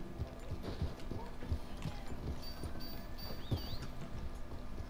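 Horse hooves clip-clop at a steady walking pace in the Red Dead Redemption 2 video game, fairly close and distinct, with faint game ambience and background music underneath.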